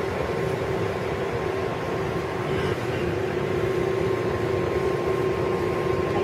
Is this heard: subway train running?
yes